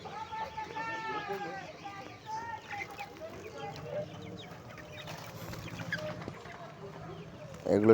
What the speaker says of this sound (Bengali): এগুলো ছোট মুরগির বাচ্চা আছে